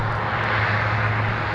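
A Metroliner aircraft taxies at MSP airport, its engine giving a loud, steady drone with a low, constant hum and no talking.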